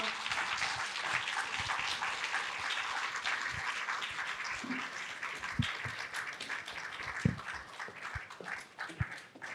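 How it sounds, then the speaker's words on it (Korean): A large crowd at a book talk claps steadily and loudly, a dense continuous wash of applause with a few sharper claps standing out. "여러분 뜨거운 박수로 환영해 주십시오"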